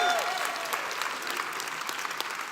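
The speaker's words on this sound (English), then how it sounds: "I'll take the applause." A church congregation claps together in sustained applause, a dense, even patter of many hands filling the room at moderate level for a few seconds.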